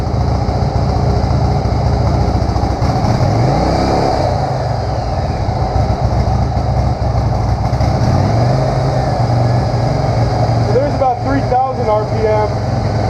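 A 1997 Yamaha Virago XV1100 motorcycle engine idles steadily at about 1,500 RPM while its carbs are being synced, with a couple of light blips of throttle rising briefly over the constant close-up rumble.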